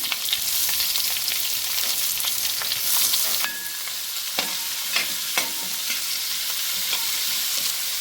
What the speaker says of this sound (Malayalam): കത്തി ചൂടായിട്ടുണ്ട് കുറച്ച് കറിവേപ്പില ഇട്ട് കൊടുക്കാം